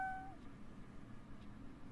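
A single short cat meow at the start in the Rise of the Third Power video game, followed by quiet background ambience.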